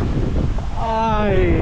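Wind roars steadily across the microphone of a cyclist pedaling home from work in Canada, a loud, unbroken rush filling the whole moment, with a brief spoken exclamation partway through.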